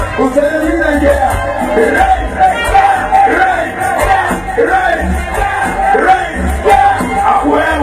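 A dense, loud crowd of fans at a sports ground shouting and yelling together in a chant, with a steady roar and rhythmic swells throughout, no clear single voice standing out.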